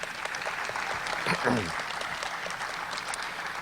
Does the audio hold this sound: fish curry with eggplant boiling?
no